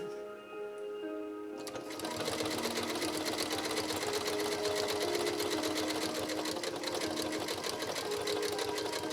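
A Janome Memory Craft 6700P sewing machine starts up after a quiet moment and then stitches in a fast, even mechanical whir with rhythmic needle ticks, close and steady.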